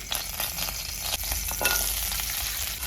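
Small shallots, garlic and ginger sizzle and crackle in hot oil in a pan, a steady frying hiss with occasional stirring scrapes, close and continuous.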